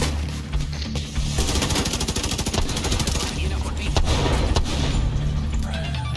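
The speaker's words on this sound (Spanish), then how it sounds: "Tengo aquí una ametralladora que me iría muy bien, una ayudita" Rapid machine gun fire in The Division 2 co-op combat, loud sustained bursts of rattling shots layered over a dense background of other gunfire and battle noise.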